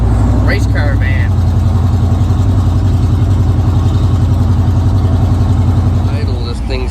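A camper van's engine idles loudly and steadily, a low rough rumble with a fast throbbing pulse that holds unchanged for several seconds, with a brief voice near the start.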